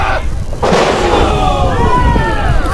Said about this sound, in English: Ashton with a body slam to Wildlee.